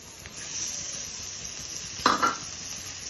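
Mushroom fried rice sizzles steadily in a pan, a soft continuous frying hiss with a brief louder clatter of stirring near the end, no voices.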